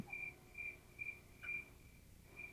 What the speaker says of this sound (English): I don't even know if there are crickets in Africa.